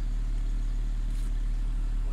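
A Toyota Corolla engine idles with a steady, low, continuous rumble and hum, unchanging throughout.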